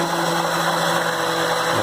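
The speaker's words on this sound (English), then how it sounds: "we're going to mix that up with our handy dandy blender" Blender whirring as coconut milk is mixed into a chicken stew with squash, a steady high motor whine running unbroken and fairly loud, with no talk.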